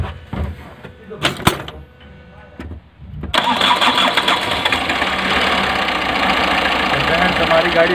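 A Tata Super Ace with a freshly replaced head gasket cranks over after a few short hesitant bursts, then catches and settles into a loud, continuous diesel idle with a rough knocking edge.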